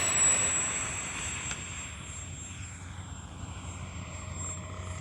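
A Freewing F-22 Raptor RC jet with a 70mm electric ducted fan whines past at moderate distance, its high steady tone fading and shifting in pitch over a constant windy rumble.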